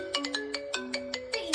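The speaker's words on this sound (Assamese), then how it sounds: "মিছ কল মাৰি আছে ৰে।" A mobile phone ringtone from a missed call plays close and clear, a quick run of repeating bright electronic notes pulsing in a steady rhythm.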